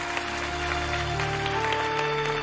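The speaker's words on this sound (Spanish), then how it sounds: "Un aplauso para la familia, por favor." An audience applauds a family on the stage of a televised singing-competition concert, a short burst of clapping with sustained musical tones underneath.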